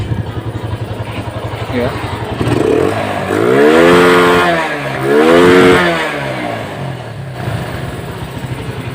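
A Yamaha Vega Force FI motorcycle engine idles close by and is revved twice in smooth swells, with a brief voice over the running engine.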